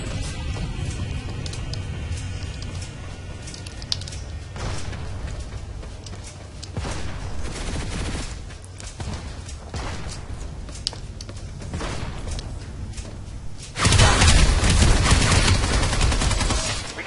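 Sustained gunfire in the video game Planetside 2, aimed at a Sunderer vehicle: dense, continuous bursts of shots and impacts fill the whole stretch, growing louder and heavier near the end.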